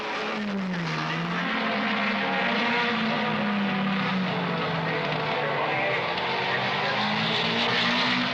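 1962 Formula One race cars at the non-championship Reims Grand Prix, with a continuous loud engine roar and a rising, falling engine whine as cars pass, a steady race-track drone throughout.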